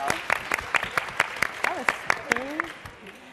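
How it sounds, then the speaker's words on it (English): Sparse applause from a luncheon audience at a Women in Technology event, a handful of separate claps standing out while a voice talks and laughs over them. "I want to applaud the number of men I see in the audience."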